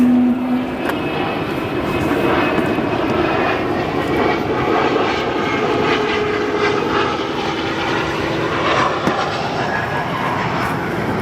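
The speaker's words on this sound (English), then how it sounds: "Atlas Air Flight 8106 coming in from Dallas, a" An Atlas Air Boeing 747-8 cargo jet arriving from Dallas at O'Hare makes a loud, steady engine roar with a low drone and a higher whine, continuous and close, with no talk.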